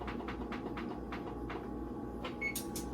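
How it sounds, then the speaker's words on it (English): Oven control panel being set to preheat, a series of short electronic beeps and button presses in an uneven sequence over a constant low hum, close by, ending with higher-pitched tones and no talking. "Preheat your oven, actually. Let me do that real quick."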